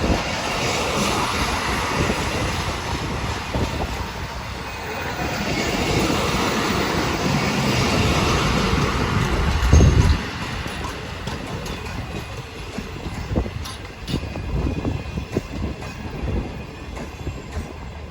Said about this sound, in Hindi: और ट्रेन रुक चुकी है यहाँ पर।